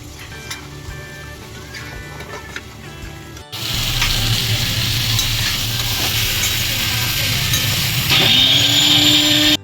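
Chicken sautés in a kadai wok: a quieter stir at first, then a loud, constant sizzle and crackle of frying that swells further near the end, with stirring noises and no speech.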